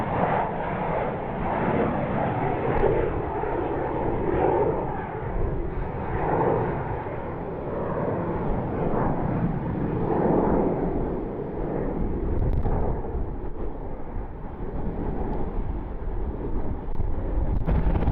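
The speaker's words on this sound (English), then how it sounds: "United Express Flight 3601, Embraer E-175 heading up to Chicago O'Hare International." Embraer E-175 United Express regional jet departing Louisville airport, a continuous distant engine rumble with gusty wind buffeting the microphone.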